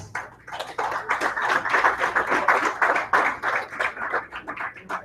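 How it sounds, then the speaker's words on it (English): Applause greets Amanda White, PR coordinator for Philabundance, as she is introduced at a boxing press conference; a few seconds of steady hand clapping from a modest audience, fairly close, with no talking over it. "Ladies and gentlemen, a round of applause for Amanda White"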